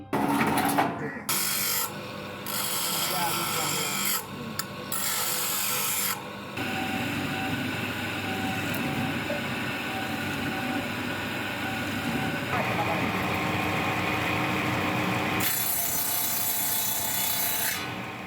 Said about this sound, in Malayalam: ഒരേ സമയം കട്ടിങ് ഗ്രൈൻഡിങ് ഡ്രില്ലിംഗ് അടക്കം അഞ്ച് വ്യത്യസ്ത ഉപയോഗങ്ങളുള്ള യന്ത്രം